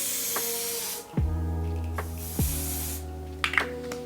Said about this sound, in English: I'm just going to run this hold spray over it.